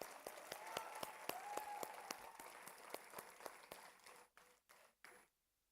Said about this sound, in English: they deserve the loudest clap in the auditorium today